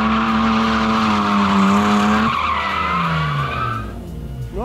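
A BMW E46 323 revs hard as its tyres squeal in a long, loud skid close by, the engine note rising and falling before the screech fades and a sharp tyre chirp sounds at the end.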